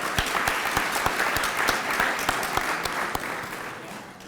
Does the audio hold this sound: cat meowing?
no